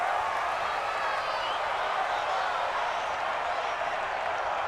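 Steady roar of a home stadium crowd in a simulated NFL football video game, Los Angeles Chargers versus Buffalo Bills, a continuous broad wash of cheering and noise with no talk over it.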